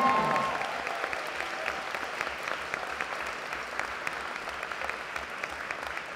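Audience applause for dancers at a university wind orchestra's festive concert, a dense, steady wash of many hands clapping throughout without pause.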